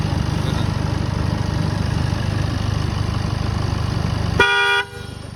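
A car engine idles steadily nearby, then one short, loud honk of the horn sounds near the end.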